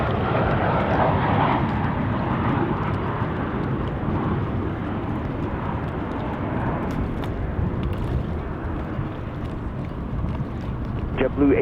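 JetBlue airliner landing on runway 1 at Washington National, a loud, continuous low roar of jet engines and rushing air that holds steady throughout, heavy with wind buffeting on the microphone.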